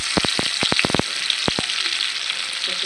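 Oil hits a hot wok for a pangas fish bhuna and sizzles, with a burst of sharp crackling pops in the first second and a lone pop later over a continuous, close frying hiss.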